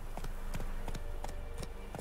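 Horse hooves clip-clopping in the video game Witcher 3: Wild Hunt, a rhythmic series of soft hoofbeats at a walking pace, faint and fairly close.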